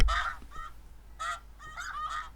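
Snow goose calls play from an electronic caller used for spring snow goose decoy hunting, a loud burst of several honking, yelping calls in quick overlapping clusters with short gaps between.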